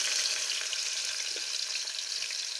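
Onions frying in hot oil with cumin and mustard seeds for a Bangalore-style vegetable sambar tempering, a steady close sizzle filling the whole stretch with no talk.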